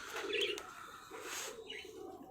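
Rampuri pigeons cooing nearby, a couple of short throaty coos with a brief chirp-like note in between, fairly quiet.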